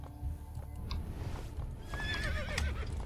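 A horse whinnies in Assassin's Creed: Brotherhood, its wavering high neigh rising clearly near the end over steady game ambience, with a few hoof clops earlier and no talk.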